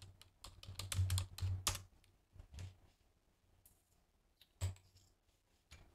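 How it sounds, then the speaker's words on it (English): Quick, light tapping on a computer keyboard with long fingernails, a brisk cluster of clicky keystrokes followed by a pause and a few scattered taps, fairly quiet and close. "Gotta learn to type again with these nails."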